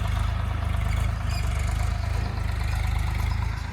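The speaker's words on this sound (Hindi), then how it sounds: "अभी सुबह से ये लोग वो जुताई कर रहे हैं ट्रैक्टर से" A tractor ploughing a farm field runs with a steady, loud low engine drone and a constant idling rumble, near and continuous throughout with no pauses.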